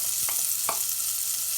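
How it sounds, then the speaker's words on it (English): Butter melting in a hot pan gives a steady, soft, close sizzle, with a couple of brief clinks of a utensil early on and no talk. "here I've kept a pan to heat, to which I'll be adding in some butter and letting it to melt"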